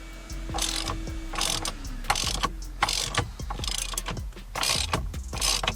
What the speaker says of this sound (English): So I'm going to go ahead and get a socket and ratchet so we can get that broken loose.